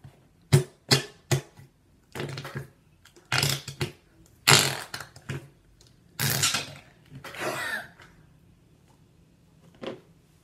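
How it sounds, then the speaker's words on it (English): Flarp noise putty is squeezed to make fart noises: about a dozen short, wet, sputtering squelches, some single and some in quick runs, close and fairly loud, separated by quiet gaps. "Comment down below if this is funny or not when it makes fart noises."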